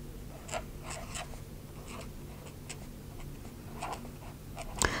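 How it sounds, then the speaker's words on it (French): A Faber-Castell brush-tip pen writes a title in a reading journal, soft scratchy strokes coming in short, irregular bursts close by against a quiet background. "j'utilise mon Faber-Castell avec la mine pinceau, pour pouvoir faire un peu un beau titre"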